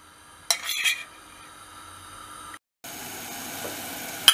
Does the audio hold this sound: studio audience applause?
no